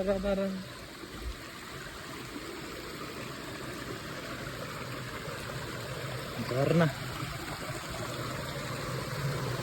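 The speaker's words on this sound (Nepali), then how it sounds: "झर्नाको पानी यस्तो बवाल छ होइन" Steady rushing waterfall water flows throughout in Shivapuri Nagarjun National Park, a constant broad roar with a brief voice or call partway through.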